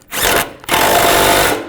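A power tool, likely a drill-type driver, tightens bolts on the A/C condenser of a 1998-2010 Volkswagen Beetle: two loud whirring bursts, a short one and then a longer sustained run, close up with no talk.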